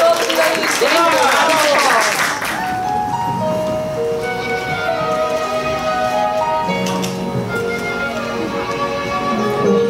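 Audience applause welcomes a singing group at a 2022 university Chinese-language song contest: dense, loud clapping fills the opening seconds under an announcer's voice, then fades as the group's music begins.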